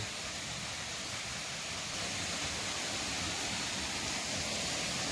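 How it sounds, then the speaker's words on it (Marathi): Monsoon waterfall at Dhangar falls near Savroli village, Badlapur, gushing after rain: a loud, steady, close broadband roar of rushing water with no pauses and no voices. "सगळीकडे पाणीच पाणी धबधबा धो धो वाहतोय"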